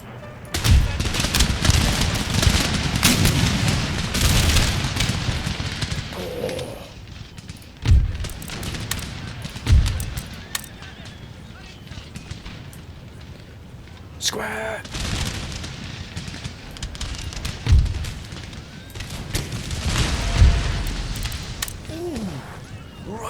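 Artillery barrage and musket fire from an Empire: Total War battle: a dense crackle of gunfire with several heavy booms standing out loudly at intervals over a rumbling battlefield din.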